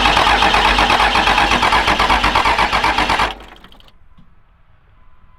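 A Cummins diesel with a VP44 injection pump is cranked hard by its starter for about three seconds while fuel is being primed. The rhythmic churning is loud and close, then it stops abruptly, leaving a quiet, fading tail.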